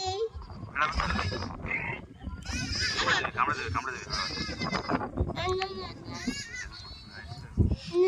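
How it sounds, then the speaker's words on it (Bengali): Sheep bleat repeatedly amid a busy outdoor scene in the Sundarbans, their calls overlapping with people and children talking nearby. "ও বাবা কত ভেড়া।"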